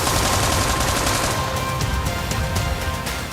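Dense, continuous crackle of gunfire coming from several directions during the attack on Imran Khan in Wazirabad, with rapid overlapping shots and no speech.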